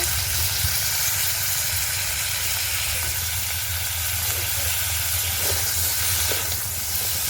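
Crabs fry in a pan for a crab, eggplant and potato curry, giving a loud, dense, continuous sizzle and hiss with a low rumbling undertone that stays steady throughout.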